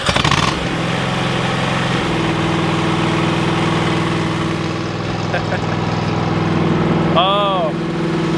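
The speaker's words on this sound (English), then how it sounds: "Gosh, that engine just purrs. It sounds so nice." A new lawn mower engine idles steadily and close by, with a smooth, even hum throughout and a brief higher whine near the end.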